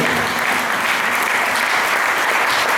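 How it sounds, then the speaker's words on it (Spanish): Steady, dense applause from a crowd for a rondalla string band, loud and unbroken throughout, with no voices standing out. "Un aplauso para él."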